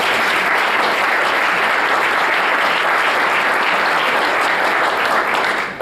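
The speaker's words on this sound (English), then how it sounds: "I think you should give yourselves a round of applause." Audience at a 2014 global standards conference plenary in Atlanta breaks into sustained, loud applause, a dense wash of clapping hands that fills the hall and stays even until it tapers at the end.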